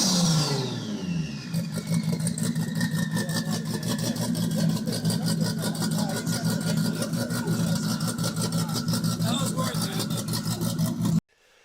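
A Toyota GR Supra fitted with a big turbo starts with a falling whine, then holds a loud, rapidly pulsing engine note at close range for about ten seconds before cutting off abruptly.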